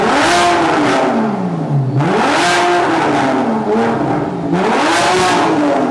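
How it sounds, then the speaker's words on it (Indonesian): A Porsche Boxster S 987 with a 3.4-liter six-cylinder engine and aftermarket exhaust revs loudly and up close, its raspy note climbing and falling in repeated sweeps with no talking. "Jadi ini knalpotnya masih suaranya bisa lebih kenceng lagi."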